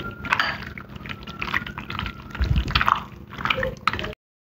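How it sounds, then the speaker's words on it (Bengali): Wet squelching and slapping as chicken pieces are hand-mixed with yogurt and Kashmiri chilli powder into a marinade for chicken 65, a few irregular close squishes with no talk. "এবারে চিকেনটাকে ভালো করে মাখিয়ে নেব।"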